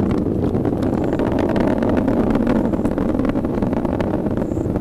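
A SpaceX Falcon 9 rocket on the CRS-15 launch thunders in a continuous, heavy, rumbling roar that holds steady and loud from start to finish, with no voices.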